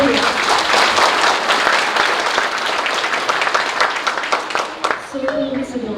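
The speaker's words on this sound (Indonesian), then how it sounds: "Mari kita beri tepuk tangan yang meriah" Hearty applause fills a school graduation ceremony at SMK Maharati, a steady wash of many hands clapping that tapers near the end as a voice starts to speak.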